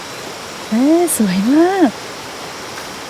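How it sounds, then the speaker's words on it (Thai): A stream flows through rice fields beside a Shan (Tai Yai) village, giving a steady broadband wash of water under a short burst of a voice in the middle. "มีสายน้ำไหลผ่านกลางทุ่งนาอะไรแบบนี้"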